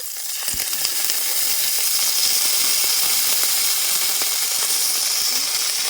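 Ginger paste sizzles steadily in hot tempering oil with whole spices, a loud, continuous hiss and crackle that holds evenly for several seconds after a brief softer start.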